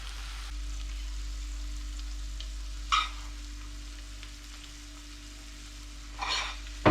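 Fried onions scraped and shifted from a pan into a duck roaster for hare in sour cream, a steady faint sizzle with two brief scraping bursts of spoon against metal, no talk.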